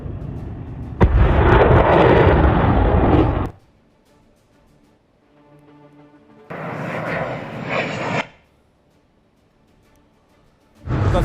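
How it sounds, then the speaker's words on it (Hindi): Loud, dense roaring blasts from a missile attack in Russia–Ukraine war footage, two long sustained bursts of explosive rumble separated by a quieter stretch with faint tonal hum, and a third burst starting at the end. "किस तरह से मिसाइल से अटैक किया गया है।"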